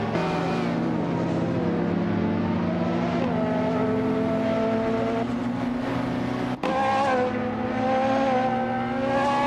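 Ultralight race cars from a video game drone around the twisting Grindelwald long track, engine tones rising and shifting steadily with a brief gear-change dip, loud and close, no talking.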